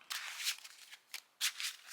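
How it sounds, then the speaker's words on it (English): Sleeved Yugioh trading cards being riffle-shuffled up close, giving bursts of dense papery flicking and rustling in two or three quick runs with short pauses between, fairly soft and heard alone. "it does shuffle fairly good. So yeah, it makes the sound"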